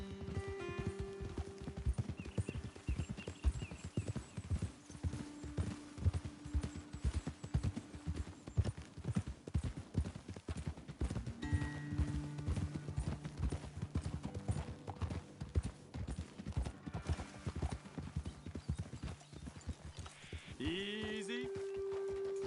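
Steady clip-clop of horse hooves on a hard surface in Red Dead Redemption 2, fairly close, with a game-style ambience and occasional tonal effects in the background.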